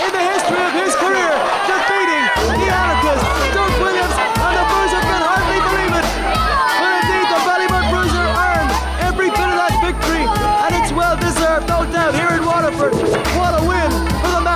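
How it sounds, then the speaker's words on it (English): A wrestling crowd roars and cheers loudly and continuously after the Ballymun Bruiser's victory at an Irish Whip Wrestling event, dense babble and shouting filling the whole stretch with a low rumble underneath. "What a tremendous reaction from this crowd"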